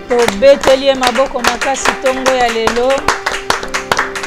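A congregation at a morning prayer meeting claps rhythmically in sharp, regular beats, mixed with singing voices and music throughout.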